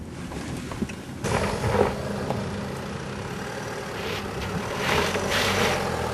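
Land Rover Freelander 2 engine drones steadily and close while crawling over axle twisters off-road, with the load rising briefly near the start and a broadband rumble and hiss throughout.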